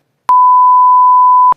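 A censorship bleep blanks out Trump's profanity: one steady, loud electronic tone of just over a second, standing alone with sharp clicks at its start and end.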